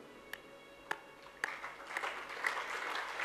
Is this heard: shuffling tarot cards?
no